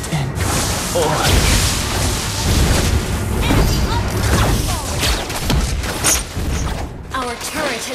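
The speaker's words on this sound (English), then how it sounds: "Our turret has been destroyed." A Mobile Legends turret is destroyed amid loud crashes, mechanical clanks and booming impacts in a busy battle, with game voices speaking over the din.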